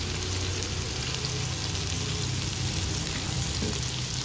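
Potato slices fry in a couple of spoonfuls of cooking oil for a green chili potato dish, a steady close sizzle and crackle with no break and no voices.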